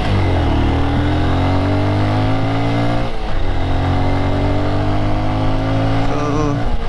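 A Honda CBF190X Fighthawk motorcycle engine runs steadily and loud up close, with a rising rev around the middle and a continuous throaty drone throughout, no talking over it.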